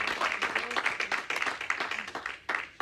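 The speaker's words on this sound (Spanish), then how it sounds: "si le damos un aplauso" A church congregation claps in a burst of applause, dense and fairly close, continuous for a few seconds with voices mixed in.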